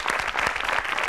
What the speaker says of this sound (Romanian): cu aplauze și de ce nu, să aplaudați tare